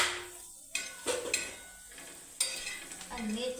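Stirring tomato, turmeric and spices in a pan while they fry, with soft scraping strokes and gentle sizzling, a few sharper clinks of the spoon against the pan, fairly close and alone.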